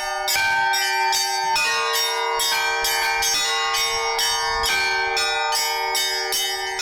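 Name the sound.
church bells ringing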